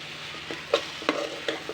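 Leafy greens frying in a pan and being stirred, a steady close sizzle broken by several soft scraping and tapping strokes of the spatula at irregular intervals.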